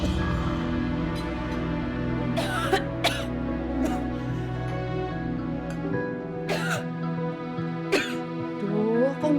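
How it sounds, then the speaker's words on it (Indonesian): A handful of short coughing bursts, spaced irregularly, break over a steady droning musical background. "kok Mbak batuk-batuk itu?"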